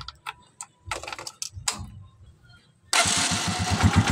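A small engine cranks into life to run a rectifier battery charger: a few sharp clicks and taps, then it starts and settles into a loud, steady, close running drone.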